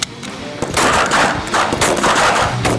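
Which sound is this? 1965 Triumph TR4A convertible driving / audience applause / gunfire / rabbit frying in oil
gunfire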